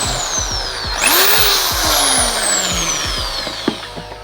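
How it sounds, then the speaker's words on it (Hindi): A Bosch GSB501 power drill running in hammer mode, close and loud, with a high motor whine that rises and falls over a fast, steady knocking pulse. No one speaks. "जब आप इसमें ड्रिल लगाएंगे तो ये आगे की तरफ नॉक करेगी और हैमर मोड में चलेगी"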